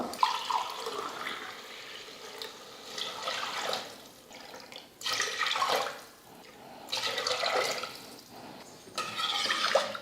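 Water pours close by into a pot of pongal in several separate tumbler-measured bursts, splashing and gurgling, with brief quiet gaps between pours and no talking.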